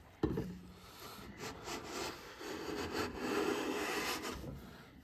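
A Wood River 5 1/2 jack plane taking a very fine shaving from a wooden board: a sharp initial contact followed by a steady rasping hiss of the blade sliding along the grain, close and alone.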